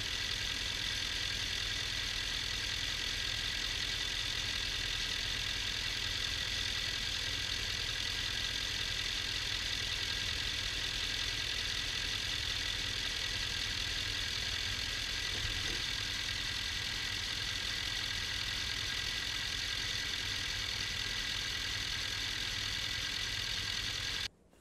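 A truck engine idles steadily after being jump-started with jumper cables, a continuous mid-pitched rumble with a faint knock, close and loud, running alone for the whole stretch before cutting off abruptly at the end.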